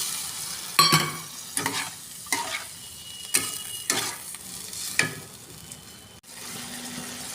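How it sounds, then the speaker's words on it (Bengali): Potatoes cooking in a pan with a little water added for an egg curry, with a series of sharp scraping stirs and brief sizzles in close succession, separated by quieter gaps. "আলুটা একটু মাখা মাখা হওয়ার জন্যে অল্প একটু জল দিয়ে দিলাম।"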